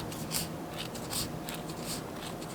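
Children's scissors cut paper for a paper-plate craft, making soft, scratchy snips and rustles that repeat at a steady pace with no voices.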